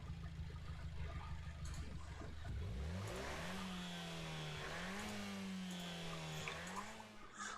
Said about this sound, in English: I'm not sure if that's a good sound of an engine or a terrible one.